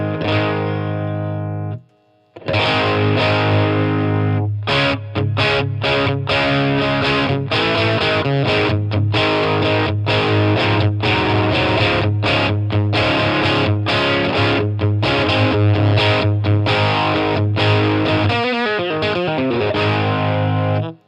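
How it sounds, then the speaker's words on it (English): An electric guitar runs through a Line 6 Catalyst amp, starting with a brief sustained chord, then after a short pause a loud, saturated, trebly boosted stream of driving chords and fast riffs that keeps going with no one talking. "You get all that kind of trebly saturation on that one when you crank the boost."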